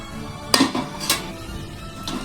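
Long beans and prawns cooking in a pot on a stove, with a few sharp metallic clinks of a utensil against the pot over a low background simmer, no talking.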